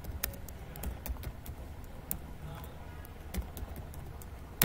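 A name is typed on a computer keyboard into an Excel sheet, a close, quiet series of irregular key clicks and taps over a faint background hum.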